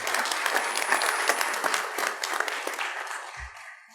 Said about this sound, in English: And if we can give them a round of applause today.